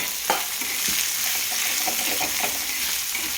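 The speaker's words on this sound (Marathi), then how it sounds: "इकडे मस्तपैकी जिरीचा आणि मोहरीचा तडका बसलेला आहे." Cumin and mustard seeds sizzle in hot oil as a tempering for a Maharashtrian potato thecha, with steady close frying hiss and a few small pops and crackles throughout.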